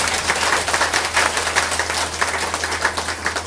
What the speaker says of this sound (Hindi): इसलिए आप लोगों के लिए जोरदार ताली बजाएं, जोर से।